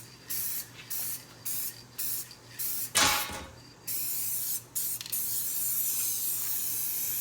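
Spray paint hisses from an aerosol can onto old car wheels in circular passes, working from the outside in, with short repeated bursts, then a louder blast and a long steady spray near the mic.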